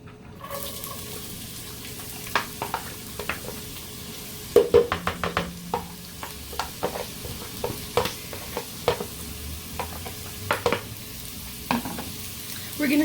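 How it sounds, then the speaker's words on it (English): Finely minced onion sauteing in hot oil in a home kitchen, a faint steady sizzle broken by irregular clicks and scrapes of stirring, close and quiet. "We're going to saute these onions for 5 minutes."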